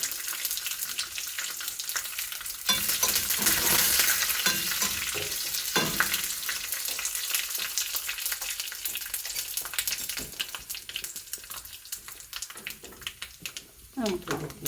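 Mustard seeds and dried red chillies hitting hot oil for a kitchadi tempering, a loud burst of sizzling and spluttering that slowly eases over several seconds, with a voice talking over it.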